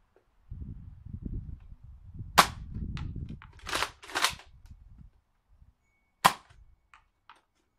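A NERF Mega Thunderhawk foam blaster fired with its barrel removed, giving sharp isolated snaps, one near the middle and another later, amid handling rustles and clacks of priming.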